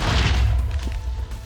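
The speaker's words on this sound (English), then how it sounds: "those explosions can kill you quite easily, so hide behind the obsidian." Explosions in the video game Minecraft during an Ender Dragon fight, a loud low boom with rumbling decay filling the short stretch, no talk over it.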